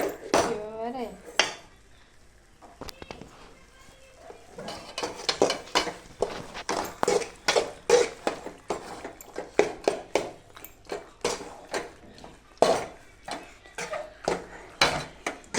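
A utensil scrapes and clinks against a pan while pasta is stirred, making irregular bursts of metallic knocks and scraping, close and fairly loud, with a voice speaking briefly at the start.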